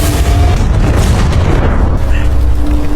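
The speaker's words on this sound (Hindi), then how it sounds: "कुछ ही सेकंड में उस रोबोट का सिस्टम फेल हो जाता है और वो धमाके के साथ फट जाता है।" A robot blows up in the movie War Machine, a loud booming explosion with heavy low rumble and crackling debris that rolls on and decays over several seconds.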